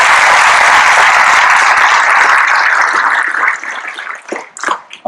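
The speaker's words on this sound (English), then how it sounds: "Can we give them a round of applause?" Sustained, dense applause from a graduation audience at the YSC Academy ceremony honoring the coaches, loud and continuous before thinning into scattered claps near the end.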